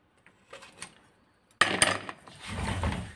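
Screws being taken out of a sewing machine during servicing: a few faint ticks at first, then a sudden burst of close metallic clicking and scraping with brief rattles that settles into a steady, gritty mechanical rasp.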